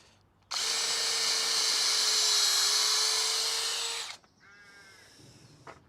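A power drill whines loud and steady at high pitch for about three and a half seconds, then stops. A quieter, brief mechanical buzz and a faint tonal sound follow.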